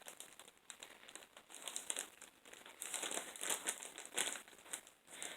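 A plastic zipper bag holding silicone baking cups crinkles and rustles up close as someone struggles to open it, a steady stretch of crackling with a few louder bursts and no talking.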